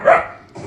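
A single sharp dog bark from a movie, one close, loud bark that fades quickly into low background sound.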